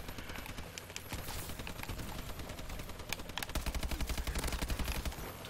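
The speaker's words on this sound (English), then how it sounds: "That kid was shooting at the warbird with an AE-4" Rapid AE-4 gunfire aimed at a Warbird in the Havoc DLC video game, a steady stream of dense repeated shots throughout that grows louder and thicker in the final seconds.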